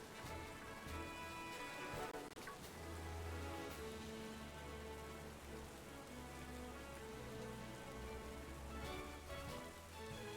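Rain in a video game, a steady patter of falling rain over faint tonal game music, quiet and continuous.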